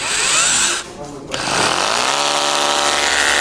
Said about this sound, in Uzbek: 95 dollarga perforatorni qaranglar.